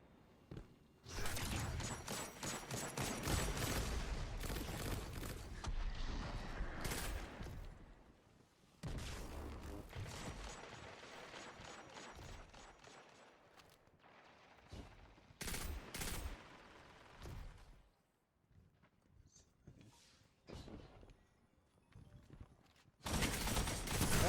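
Rapid bursts of pulse rifle fire from the Redrix weapon in a first-person shooter video game, loud and dense, in repeated volleys separated by short pauses, with no talk.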